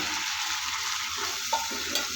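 Potatoes fry in a pan for a tomato fish curry, making a steady, moderate sizzle with a couple of brief clinks of a spoon near the end.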